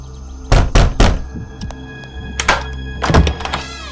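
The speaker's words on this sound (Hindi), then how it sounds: "दरवाजा बार बार बंद कर दे रही है।" A door is slammed shut again and again in a Hindi-dubbed movie scene, giving a series of loud, heavy thuds in quick clusters, close by with no talk over them.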